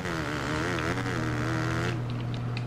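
A sluggish motorcycle engine in a racing video game drones with a steady, buzzing tone that wavers as the throttle is held, then drops off near the end. The bike sounds weak and lacking power, moderately loud and without talk.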